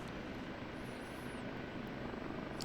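An OH-58D Kiowa Warrior helicopter in the DCS flight simulator lifts off with a steady, even rotor and engine drone that stays constant throughout, heard alone without speech.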